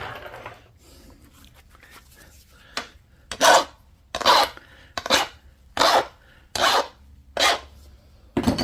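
A flintknapping tool is sharpened with a run of about seven rhythmic, rasping strokes, each a loud, gritty scrape close by, spaced roughly half a second apart after a quieter start.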